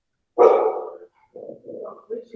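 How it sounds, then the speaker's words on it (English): Dogs bark in a loud burst close by during a chat between actors, followed by softer, shorter yaps or growly sounds that overlap with background voices. "he's taming the dogs"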